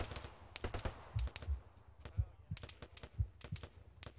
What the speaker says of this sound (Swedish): Ännu mer skott från höger.